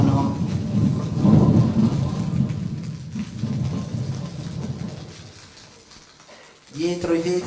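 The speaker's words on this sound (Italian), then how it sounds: "La pioggia scrosciava sui tetti della reggia di Versailles. Ogni tanto vividi lampi squarciavano il cielo, accompagnati da rombo di tuono." A thunderstorm effect for an Italian radio drama set at Versailles: heavy rumbling thunder and steady rain roll loudly, fade toward near silence, then surge again with a spoken voice at the end.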